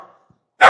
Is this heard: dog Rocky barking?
yes